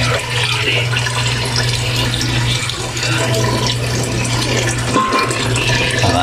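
Water pours steadily into a cooking pot of sautéed vegetables for sinigang sa miso broth with milkfish, a continuous close rushing splash lasting several seconds with a low hum beneath.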